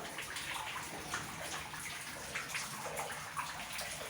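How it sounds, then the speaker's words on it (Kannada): Water falls steadily inside a tunnel dug beneath a home, making a continuous rushing splash that fills the enclosed space without pause. "ನೀರು ಬೀಳುವ ಶಬ್ದ ಕೇಳ್ತಾ ಇದ್ದಲ್ಲದ"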